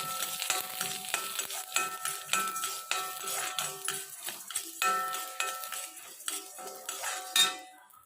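Urad dal sizzles in groundnut oil in a pan as a metal spoon stirs it, with rhythmic clinks and scrapes over a steady frying hiss.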